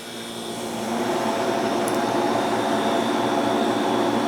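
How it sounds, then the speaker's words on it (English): A Cube freeze dryer runs with a steady, even mechanical hum and whoosh that swells slightly at the start and then holds constant, close and alone with no voices. "Okay, the freeze dryer is ready."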